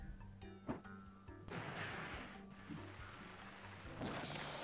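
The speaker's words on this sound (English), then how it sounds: "Makes a rain cloud for your head." A cartoonish rain cloud effect from the Pajama Sam adventure game: bursts of rainfall hiss in two sustained stretches, preceded by short tonal game sounds, heard fairly close and steady.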